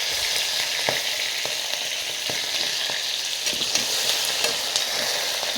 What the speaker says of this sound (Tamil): இஞ்சி பூண்டில் நல்லா வதங்கி நல்லா அந்த பச்சை வாசனை போகிற வரைக்கும் வதங்கணும்